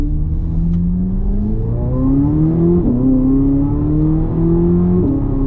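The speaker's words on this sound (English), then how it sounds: "The exhaust is perfect." A 2026 Chevrolet Corvette Z06 3LZ with a high-revving V8 accelerates hard from the cabin, its engine and exhaust climbing through rising revs with a brief dip at each gear change, loud and continuous.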